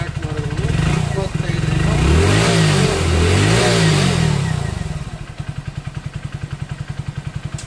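A vehicle engine with low fuel pressure runs close by, swelling to a loud rev before settling into a steady, rhythmic idle chug; someone talks over it.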